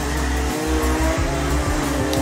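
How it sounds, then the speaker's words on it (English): A racing kart at a club championship comes down the straight, its small engine droning steadily and close. There are slight pitch shifts as the driver works the throttle. "we have our first kart coming down the straight"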